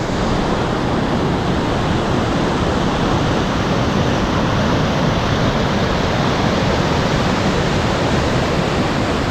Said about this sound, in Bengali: জাস্ট জলের ফ্লোটা একবার দেখো